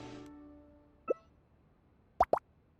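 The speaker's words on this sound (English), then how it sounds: "add a large amount of slime condensate and stir and let it settle" A few soft watery plops from slime condensate being added and stirred in the Genshin Impact video game, sparse and close, after a brief fading tone, with no talk.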